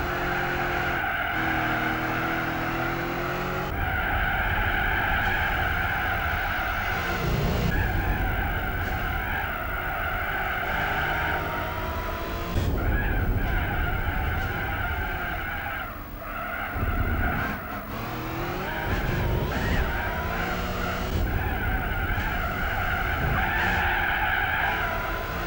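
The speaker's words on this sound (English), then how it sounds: "Just listen to all of his tyre squeal." Tyre squeal from racing cars in the video game Gran Turismo 4, long screeching skids rising and falling over a steady engine drone, repeated through corners with brief gaps.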